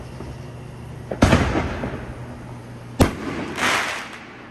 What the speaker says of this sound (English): That was a pretty firework.